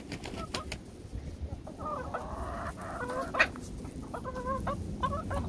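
Lively chickens cluck repeatedly in a pen before being let out, a run of short, close clucks and calls over a low, rustling background.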